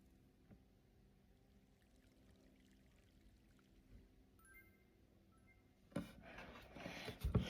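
Quiet low rumble gives way to water pouring in the video game Shapik, a loud gurgling splash that starts near the end and keeps running.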